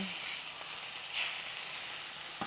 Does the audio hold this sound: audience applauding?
no